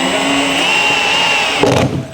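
Power drill boring holes in the body of a 2022 Subaru WRX to mount a wing, a steady high whine running nearly two seconds before a short harsher burst of bite near the end, close and loud.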